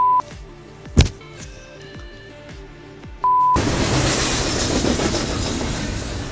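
Train cars rolling along the rails with a steady rushing roar that starts suddenly after a quieter stretch of beeps and a single loud thump, with no voices.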